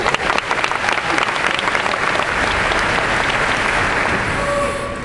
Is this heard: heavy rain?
no